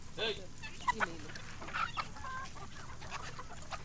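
Native country chickens cluck several times in short, uneven bursts, fairly close, over a steady background hum of a farm setting; no speech is heard.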